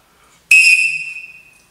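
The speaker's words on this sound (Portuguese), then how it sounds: "um torcedor soprou o apito, que não é o do árbitro" A single sharp referee-style whistle blown from the stands at a football match, one loud shrill blast that trails off over about a second.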